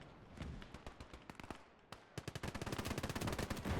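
Rapid bursts of heavy gunfire ring out in the World War II strategy game Gates of Hell, loud, dense volleys with a short lull before fast repeating shots resume and build.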